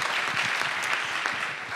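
Brief, steady applause from a seated audience at a film festival press conference in Málaga, dense and fairly loud for under two seconds.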